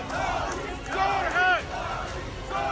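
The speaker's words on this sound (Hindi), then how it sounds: "उनकी जबरदस्त तरीके से हूटिंग हुई" On Delhi election voting day, a crowd hoots at politician Manish Sisodia in Jangpura, with loud shouts rising over a busy background of crowd noise and chatter.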